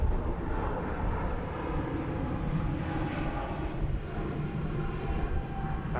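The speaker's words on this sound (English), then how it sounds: "Nice long takeoff roll there, we hope, off to Frankfurt" Airliner on its takeoff roll at Bangkok airport, bound for Frankfurt: a steady, moderately distant roar of jet engines, broad and unbroken, with no voices over it.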